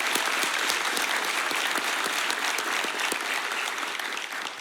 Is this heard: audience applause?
yes